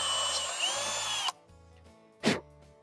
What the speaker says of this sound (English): I can drill a hole in it real quick